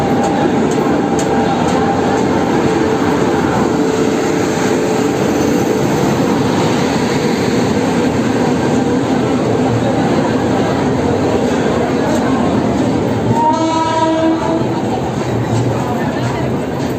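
The 12792 Danapur-Secunderabad superfast express pulls into Varanasi station with a continuous heavy rumble and a tonal, rising whine near the end, while people talk nearby.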